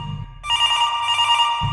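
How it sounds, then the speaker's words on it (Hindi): A telephone bell rings once in a sustained, bright electronic trill lasting about a second, with low rumbling noise before and after. "हमारे घर की फ़ोन की घंटी बजी।"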